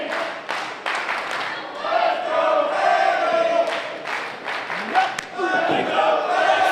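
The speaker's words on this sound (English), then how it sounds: "Crowd here in the Casa Loma Ballroom really appreciating the efforts of both of these athletes thus far in this match." A wrestling crowd in the Casa Loma Ballroom cheers and claps steadily, with rhythmic clapping and chanting under a commentator's voice.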